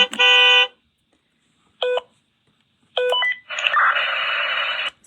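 A Montessori busy board toy plays short electronic sounds: a buzzy tone, a brief beep, a two-note chirp, then a longer warbling electronic melody, each loud and close with silent gaps between.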